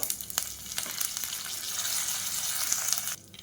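Whole spices such as cloves, cardamom, stone flower, fennel and bay leaf fry with curry leaves in hot oil for a pepper chicken gravy, a close, steady crackling sizzle that rises as they hit the pan, then drops off sharply.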